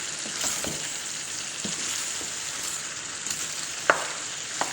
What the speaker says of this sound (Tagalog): At ilagay na natin yung pinirito nating patatas. Nikos-nikos. Hanggang mahalo lahat.